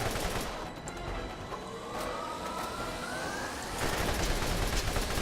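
Gunfire crackles in a Borderlands video game boss fight as rapid shots over a busy game background, with a rising whine mid-clip and a louder burst of firing near the end.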